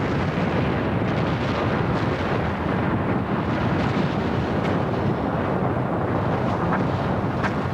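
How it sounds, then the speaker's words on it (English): Mount St. Helens erupting from its north face: a continuous, loud, dense roar of explosive rumble and blast noise, broadband and unbroken for the full length, with heavy low-end buffeting like wind on a microphone and no voices. "a huge explosion bursts out from the north face of Mount St. Helens"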